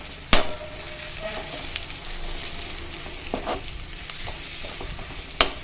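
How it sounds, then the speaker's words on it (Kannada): Two green chillies fry in a pan with a dense, constant crackling sizzle, broken by a few sharp knocks and scrapes of a spoon against the pan, close and fairly loud with no voices. "ಇದು ಹಾಗೆ ಚೆಂದ ಫ್ರೈ ಆಗಬೇಕು. ಫ್ರೈ ಆಗ್ತಾ ಇದೆ."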